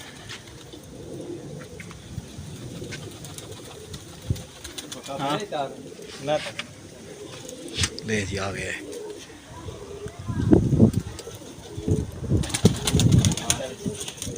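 Pigeons coo and flutter down to land on a windy day, the soft calls and brief wing flaps mixed with nearby voices talking throughout and a louder burst of movement near the end.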